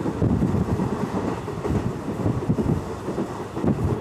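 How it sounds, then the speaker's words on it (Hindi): A moving passenger train on the Abohar–Fazilka line rumbles steadily, with a dense, continuous roar of wheels on rail and some wind buffeting throughout, fairly loud and close. "फिलहाल हमारी ट्रेन घल्लू रेलवे स्टेशन से थोड़ा सा आगे आ चुकी है"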